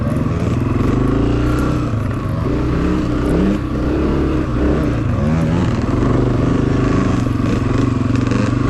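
Honda CRF250F dirt bike engine pulling steadily in second gear during an off-road hare scramble, a loud, continuous close-up drone with small swells in pitch as the rider covers ground, no voices.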